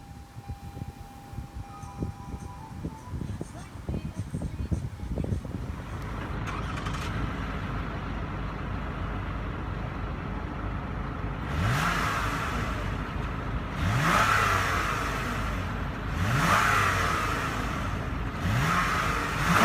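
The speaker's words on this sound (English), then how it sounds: "To start the engine, all I have to do is push a foot down the brake and press the start button located right here on the dash." A 2016 Lexus ES350 engine is started, then revved several times, with rising surges at a steady rhythm, close and fairly loud, no talking.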